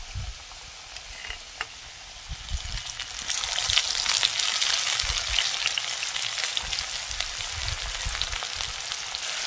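Potatoes frying in oil with onion and garlic, a crackling sizzle that swells louder partway through and then holds steady, with light stirring noises and no speech.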